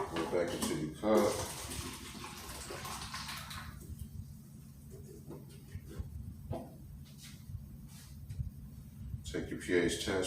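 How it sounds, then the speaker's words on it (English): Water being poured from a gallon container back into a cup after mixing in pH solution, a soft splashing trickle heard intermittently under a person talking nearby. "Pour it back into your cup."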